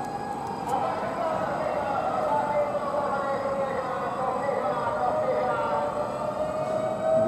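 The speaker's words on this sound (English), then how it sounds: "hear the siren of ambulances" Ambulance sirens wail continuously in the distance in Tokyo at night, their pitch slowly rising and falling over a dense rumble of city traffic.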